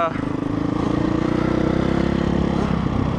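Engine of a 2004 Honda CRF 450 dirt bike running and revving steadily at close range, a continuous buzzing drone that holds through the whole clip with slight surges, no talk over it.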